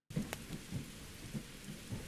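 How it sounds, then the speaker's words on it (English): Rain pours steadily in the video game Irori, a dense close hiss with a few soft low rumbles underneath, and no voices. "I hope the rain will put it out anyway"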